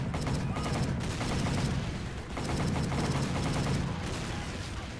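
Machine gun firing at enemies coming up a beach in a video game, dense rapid bursts of gunfire forming a loud, continuous rattling barrage with a brief dip midway.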